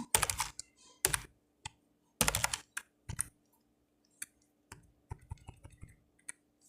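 Python code being typed on a computer keyboard, heard as bursts of fast, close, crisp key clicks separated by short pauses, with isolated single keystrokes toward the end and no talking.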